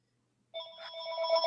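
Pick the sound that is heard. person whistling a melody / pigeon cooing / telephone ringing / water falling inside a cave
telephone ringing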